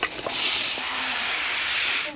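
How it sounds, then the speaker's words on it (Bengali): Meat is stirred in a hot pan after fried onion and tomato, giving a loud, steady hiss of sizzling with a few scraping clicks at the start. "ওগুলার মাংস প্রথম নাড়তেছি আমি"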